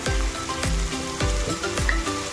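Onions frying with salt in a pan for gongura rice, a continuous loud sizzle with regular low thuds from stirring or tossing roughly every half second, no voices.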